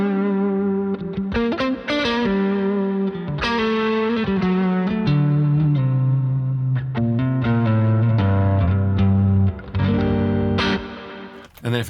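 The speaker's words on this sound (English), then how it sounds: "if I press foot switch B, turns on the reverb." Electric guitar playing chords and single notes with a wet, spacious reverb tail, loud and continuous.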